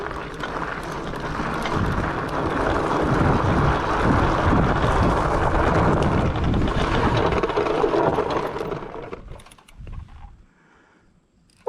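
An Ecotric fat tire ebike rolls along outdoors with steady wind and tire rush, then the noise fades as it brakes to a stop, leaving near silence with a few faint clunks.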